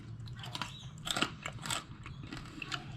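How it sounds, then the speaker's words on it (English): Someone close by bites and chews crispy fried guanciale pieces as a snack, with several soft crunches and crackles in an irregular rhythm, quiet and intimate. "You can just eat them as a nice little"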